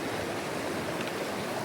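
Steady broadband rush of creek water flowing outdoors on a cloudy day, continuous and fairly even, moderately close with no talk over it.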